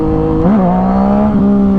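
A Yamaha FZ09 motorcycle engine revs up close and loud, a steady droning tone that climbs briefly in pitch, then holds and dips slightly, with no talking.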